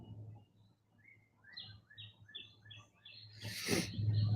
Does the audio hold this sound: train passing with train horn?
no